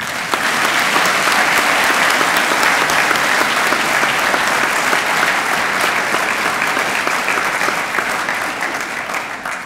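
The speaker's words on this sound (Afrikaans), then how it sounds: "Kom ons klap maar voor." Loud, sustained applause from the audience at a school academic awards ceremony as a student is honoured, a thick, steady roar of many hands clapping that continues for several seconds before easing slightly at the end.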